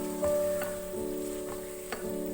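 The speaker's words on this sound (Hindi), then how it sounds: "सारे मसाले के साथ इसको थोड़ा सा भूनेंगे।" Meat cooks with spices in a pan for dal gosht, giving a soft, steady sizzle broken by a few sharp scraping stirs of a spoon, against a faint electrical hum.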